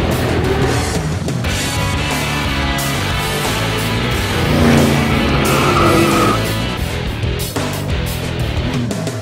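A Dodge Challenger sports car drives hard with squealing tires, loud engine roar close up and sustained tire squeal rising and falling over several seconds.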